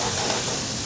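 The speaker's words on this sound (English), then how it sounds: "So we've got some mushrooms that we're going to saute up here with that, okay?" Mushrooms and shallots sauteing over good heat in a pan, a brief steady hissing sizzle, close and loud, with no talk.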